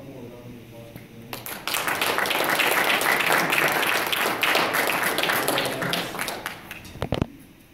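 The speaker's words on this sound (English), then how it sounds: "how about one more round of applause for them?" An audience gives a sustained round of applause at a high school jazz ensemble concert, the clapping swelling quickly, holding for several seconds, then tapering off.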